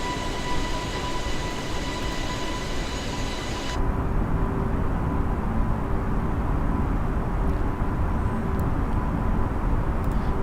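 An airliner climbing in Microsoft Flight Simulator 2020, with a continuous dense engine roar and whine that changes tone partway through and stays steady and loud, with no talk.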